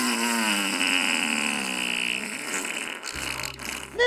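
A comedic fart sound effect in a comedy movie, a drawn-out tonal blat that wavers and slides, followed by a brief rumbling sputter at the end, with no speech.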